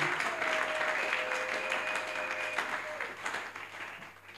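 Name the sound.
congregation applauding the Lord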